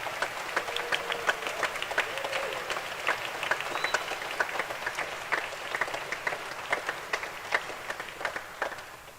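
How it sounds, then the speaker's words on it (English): Applause from competitors, audience and educators at the finals of an international piano competition, a steady wash of many hands clapping with sharp individual claps standing out, sustained and moderately loud throughout. "This is the applause from the competitors and the audience and the educators to you."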